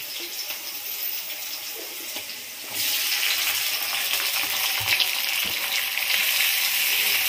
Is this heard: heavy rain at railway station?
no